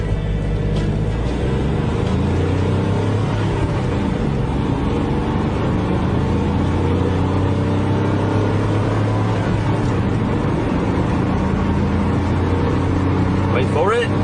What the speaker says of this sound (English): To give you an idea of how long this car takes to get from 0 to 60 miles per hour